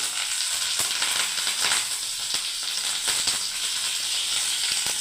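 Dried chillies and curry leaves sizzling in hot oil, a loud, steady, close frying hiss with crackling pops throughout.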